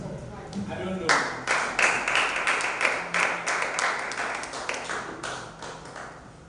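A bootcamp audience claps harder when urged, uneven bursts of hand claps rising after a short pause and fading gradually, with a voice speaking throughout.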